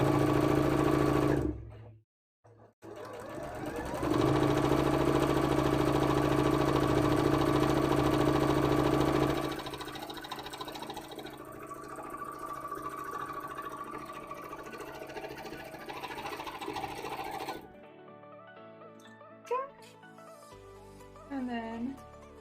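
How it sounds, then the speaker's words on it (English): A sewing machine stitches supports into a custom mannequin, running in long steady close whirring bursts with pauses, its motor hum loud and continuous for several seconds before tapering and stopping. "so I'm just doing a few extra stitches down it"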